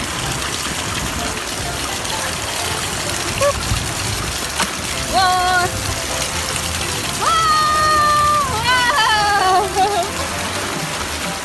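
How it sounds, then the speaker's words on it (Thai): Water gushes strongly down a water slide in a steady, splashing rush, with voices calling out and exclaiming over the noise. "โอ้สไลเดอร์ตรงนี้น้ำไหลแรงนี่"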